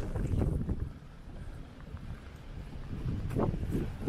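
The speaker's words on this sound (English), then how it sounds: "And it's a bit windy as well." Gusty wind buffets the microphone on a rainy city walk through Toronto's Kensington Market, a steady low rumble that swells and eases over a few seconds with no one talking.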